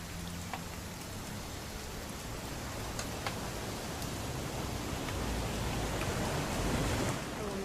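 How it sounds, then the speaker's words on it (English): Steady rain falls in the video game What Remains of Edith Finch, a dense, even hiss of drops with occasional light ticks, continuous and moderately quiet, swelling slightly toward the end. "It's gonna rain the whole weekend"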